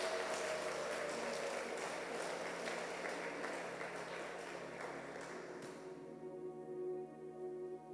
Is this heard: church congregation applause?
yes